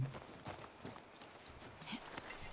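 Faint, irregular clip-clop of horse hooves on the ground in the video game The Last of Us Part II, several soft thuds spread over a couple of seconds against quiet background noise.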